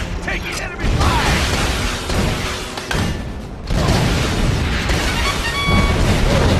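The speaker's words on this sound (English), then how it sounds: "Taking enemy fire!" Gunfire and heavy booms from Battalion Wars come in loud bursts with short gaps between them, mixed with mechanical clatter and a voice shouting over the fighting.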